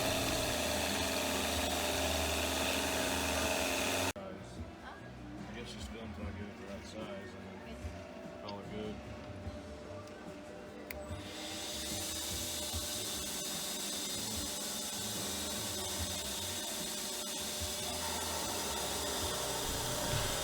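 Wooden dowels being turned from square stock on a metal lathe, a steady rattling, ratchet-like mechanical whir running throughout, loud at first, dipping quieter for several seconds mid-way, then returning full, with talk over it.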